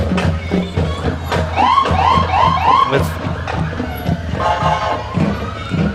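The New Richland Ambulance moves along a town parade route in the Farm and City Days celebration, its siren wailing in short rising whoops close by over a busy, noisy street background.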